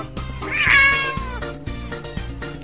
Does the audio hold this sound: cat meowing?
yes